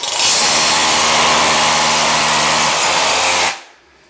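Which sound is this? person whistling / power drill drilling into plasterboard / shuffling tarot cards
power drill drilling into plasterboard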